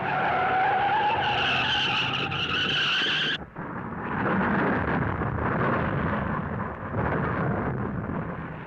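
A NASCAR race car skids out of control at the 1970 Darlington Southern 500: a loud, sustained tire screech for about three seconds, then it breaks off into a heavy, rumbling roar of engines and track noise.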